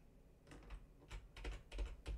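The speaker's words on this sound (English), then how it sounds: "I'm not exactly pleased about how loud my keyboard is" Clacky keystrokes on a loud computer keyboard, heard alone and close in irregular bursts of several quick presses with brief pauses between them.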